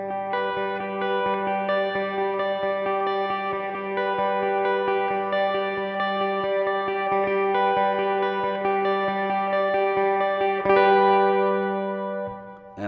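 An electric guitar runs through a reverb pedal with its time knob turned all the way up, so sustained chords ring out loud and steady with long washes of decay, ending in a sharp strum and a brief trail.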